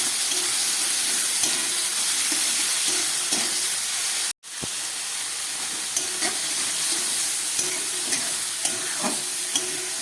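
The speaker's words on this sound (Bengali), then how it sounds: "খুব ভালো করে আমি চিংড়ি মাছগুলোকে ভেজে নিচ্ছি।" Prawns fry in oil with salt and turmeric, a steady dense sizzle with stirring clicks and scrapes running throughout, broken by one brief silent gap midway.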